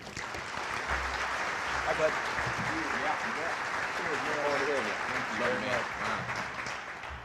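An audience applauds steadily throughout a welcome for speaker Matt Saman, a dense wash of clapping that holds at a consistent level while a voice speaks over it.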